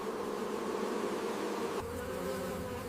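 Honeybees buzz in a steady, dense drone, close and continuous, with a slight shift in tone partway through and no voices.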